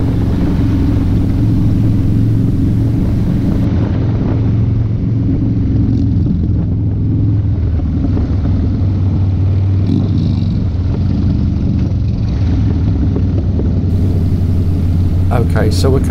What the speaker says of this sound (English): I'm just gonna shut up for just a second and let you enjoy the scenery.